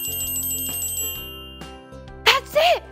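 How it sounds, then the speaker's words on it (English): A bright bell rings in a short sustained tone, followed by two sharp high-pitched bursts near the end. "That's it, friends, that was a bell."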